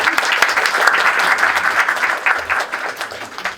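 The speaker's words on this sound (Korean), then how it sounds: "큰 박수 부탁드리겠습니다" An audience claps loudly and continuously at a product launch seminar for Wibill S and Smooth Q2 gimbals, dense applause filling the room and tapering slightly toward the end.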